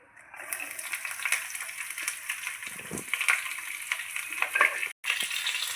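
Garlic and slit green chillies frying in a pan for a pumpkin curry, a steady close sizzle with faint stirring scrapes, and a brief break near the end.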